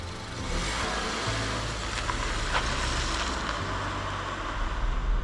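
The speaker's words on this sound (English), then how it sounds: "let's see what this Seat Arona is like to drive" A 2020 Seat Arona small SUV drives along at a steady pace, its engine hum and tyre roar mixing with wind noise.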